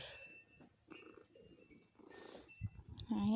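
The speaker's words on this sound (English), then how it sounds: "I hear kittens." Soft, low purring rumbles close by, ending with a brief cat vocalization.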